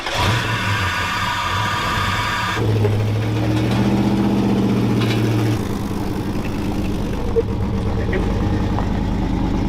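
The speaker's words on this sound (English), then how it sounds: "We're gonna be doing a cold start for the first time." A 1957 Chevy engine fires up from cold and settles into a loud, steady idle with a deep throbbing hum, voices talking over it.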